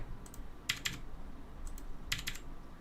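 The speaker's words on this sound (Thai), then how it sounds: "ผมใช้ตัวคิว กดคิวสองครั้ง ก็จะกลายเป็นมาโคร" Keys pressed on a Tsunami MK61 Pro mechanical keyboard with swappable switches: a few crisp, close clacks in small pairs and clusters, separated by short quiet gaps over a faint room hum.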